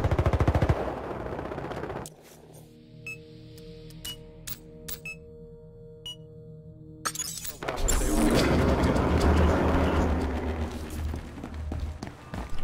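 Gunfire from the video game Battlefield Hardline: a dense automatic burst at the start, then sparse single shots and clicks over a low hum, followed by loud sustained firing and chaotic battle noise.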